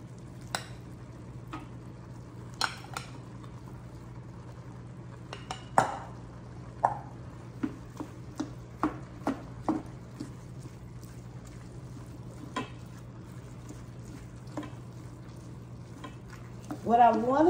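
Rice being stirred into ground beef cooking in a pan, with soft scraping and clinking of a utensil against the pan in scattered strokes over a steady low hum, a quiet sizzle underneath.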